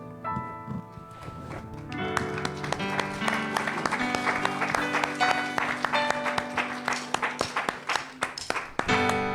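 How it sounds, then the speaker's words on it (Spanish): A church congregation claps rhythmically in joyful worship alongside sustained music, the claps falling in a steady beat that grows more pronounced over the second half. "Todos aquí aplaudiendo, hermanos, con ese gozo."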